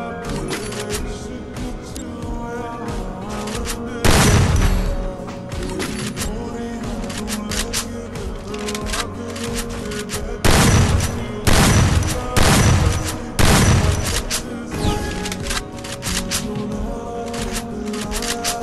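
Shotgun blasts from the Free Fire game ring out as loud, sharp bursts, one at about four seconds and a tight cluster of three or four later on, over steady background game noise.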